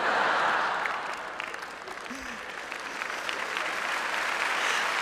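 Audience applause on a 1980s song-and-dance television show, a broad wash of clapping that starts loud, dips slightly midway and swells again, with a faint voice briefly audible underneath.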